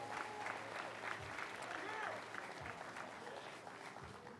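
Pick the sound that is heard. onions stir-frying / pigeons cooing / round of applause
round of applause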